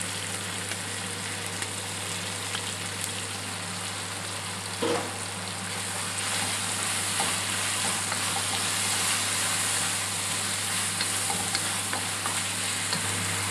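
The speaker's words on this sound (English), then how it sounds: "Leave that in the wok for a few minutes just so that the natural sugars caramelize, and then we'll add our oyster sauce." Duck and oyster sauce sizzle steadily in a hot wok during a stir-fry, a dense continuous crackle and hiss with occasional stirring scrapes, close and moderately loud with no talking.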